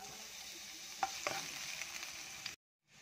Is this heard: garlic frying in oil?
yes